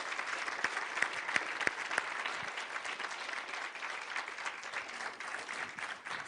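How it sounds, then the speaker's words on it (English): Applause from a conference audience after a panel discussion, a steady wash of many hands clapping with a few sharper claps early on, moderately near and without speech. "Please, ladies and gentlemen, round of applause."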